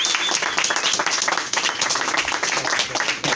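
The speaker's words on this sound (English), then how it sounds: "Can we give him a round of applause?" A crowd at a gathering in West Philadelphia breaks into loud, close applause with crisp individual claps. It dips briefly midway, then carries on strongly.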